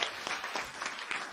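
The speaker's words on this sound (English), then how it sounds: "That's awkward clapping from me" A lone host claps by herself at the close of a talk show, a few quiet, slightly uneven claps with no crowd joining in.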